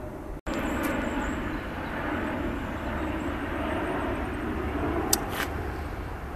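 An airplane passes overhead as a steady, broad engine roar at Kew in the early morning, in an otherwise quiet outdoor spot, with a brief click near the start and a faint bird chirp.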